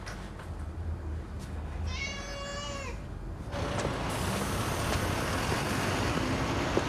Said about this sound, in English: You got a cat?